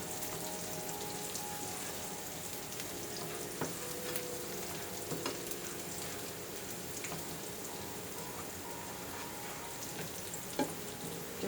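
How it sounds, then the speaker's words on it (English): Minced garlic fries gently in olive oil in a pan for homemade croutons. A soft, continuous crackle with scattered small pops runs throughout, fairly faint and without voices. "Let's fry it a little bit."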